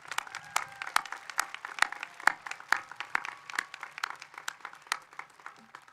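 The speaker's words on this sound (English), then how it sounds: "One more round of applause," Audience applause at a high school graduation ceremony, many hands clapping in a steady crackling patter that stays fairly even throughout, heard from within the hall.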